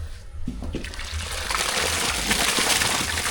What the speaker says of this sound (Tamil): சாப்பாட்டுக்கு தண்ணி நல்லா கொதிச்சுட்டு இப்போ அரிசி வச்சுக்கலாம்